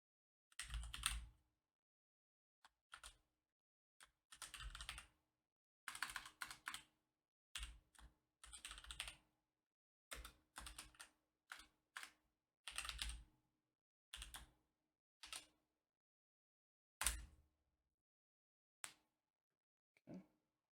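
Computer keys clatter in irregular bursts as code is typed into an edit window, close and fairly quiet, with short flurries of keystrokes separated by silent pauses.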